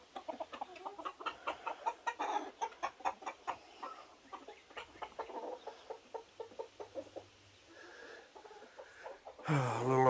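Brown and white hens clucking on a farm after rain, a steady run of short, fairly close clucks and chatter, ending in a brief louder broadband rustle.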